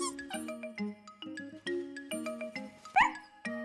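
Small cartoon dog yipping and barking in a quick run of short, bright yelps, close and clear, with musical tones mixed in.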